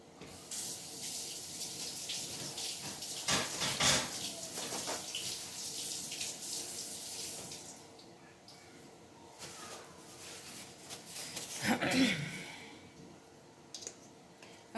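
Running tap water splashes over hands and a bowl at a kitchen sink after kneading homemade noodle dough, a steady hiss with louder bursts as the flow hits, no voices.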